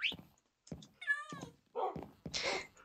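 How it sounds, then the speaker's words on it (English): A house cat meows several times close by, the calls varied in pitch and length, with soft thumps and bumps between them in a quiet indoor room. "Wherever my other cat is, right here."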